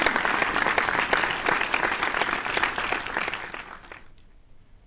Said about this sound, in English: Please join me in giving all of the new graduates a rousing round of applause.